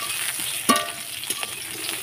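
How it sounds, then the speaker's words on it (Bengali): Eggplant frying in oil in a pan until it turns red, a steady close sizzle with a few sharper pops and crackles scattered through it, no voices over the cooking. "বেগুনটাকে সুন্দর লাল করে ভেজে নিচ্ছি।"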